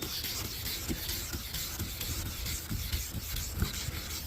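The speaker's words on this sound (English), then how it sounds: "So you want to get your pad wet and your headlight wet in non-circular motion" Wet sandpaper pad rubbed back and forth over a 2015 Honda CR-V headlight lens during restoration, a steady close scratchy rasp with rhythmic strokes and no talking.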